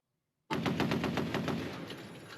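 A sharp onset into a rapid burst of machine gun fire from the Droid TW-12.7 robotic ground drone, evenly spaced shots rattling on for about two seconds, close and loud.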